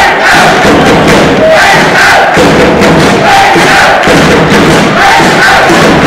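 A loud, dense crowd of spectators at a boys' youth handball match between Haukar and ÍR roars and shouts continuously, with thumps and surges of cheering throughout.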